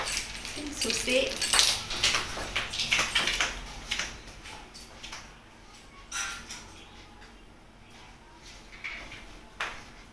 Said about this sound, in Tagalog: Kasi ilalagay ko yung susi sa may tabi ng gate.